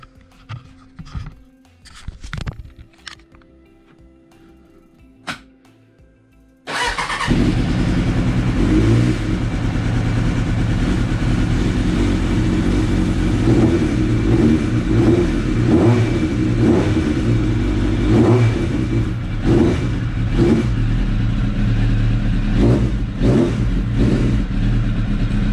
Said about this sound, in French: Allez, on va essayer de le démarrer.